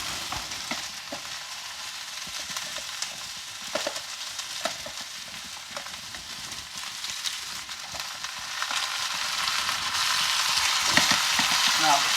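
Potatoes and garlic frying in a cast iron skillet, a steady close sizzle that grows slightly louder toward the end, broken by scattered light taps and scrapes from stirring.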